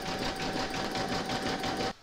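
An embroidery sewing machine stitches a cut-out round on fabric and batting for Easter chick bunting, running steadily with a fast even hum and needle rhythm close by, then stopping abruptly at the end.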